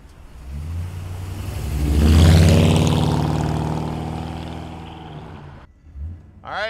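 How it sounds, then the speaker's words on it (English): A 1955 Chevrolet 210 engine and exhaust rumble loudly on a drive, swelling to a strong rev around the second second, then holding a steady roar before the sound abruptly drops away near the end. "Let's take this 55 Chev for a ride. Listen to that exhaust."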